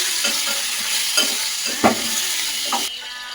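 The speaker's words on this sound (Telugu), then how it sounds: "ఇప్పుడు ముందుగా మనం ఫ్రెష్గా కడిగి పెట్టుకున్న చికెన్ని ఇందులో వేసుకోవాలి. ఇలా కలుపుకోవాలి." Fresh chicken is dropped into a pan of fried onions and curry leaves and stirred, giving a steady close sizzle broken by several short scraping stir strokes, with no talking.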